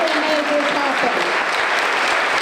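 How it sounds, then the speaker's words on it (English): Audience applause at a town hall celebration and open house in Wolfeboro, loud sustained clapping from a crowd with a voice briefly audible on top, steady and full throughout. "Let's give them a round of applause."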